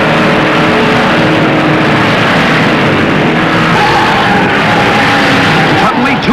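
Stock cars at the 1958 Southern 500 race in a loud, continuous roar of engines and crowd noise, steady and dense throughout, with a rising whine near the end and possible commentary mixed in.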